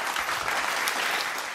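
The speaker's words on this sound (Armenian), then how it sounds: "Շնորհավորենք ու ծափարենք Սոֆին։" Applause for Sofi, a singer in the Armenian pop song contest Nor Dzayner, fills the hall: dense, steady clapping from a studio audience throughout, with no voices over it.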